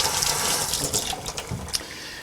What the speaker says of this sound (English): I'll just rinse that off just in case anything got onto it.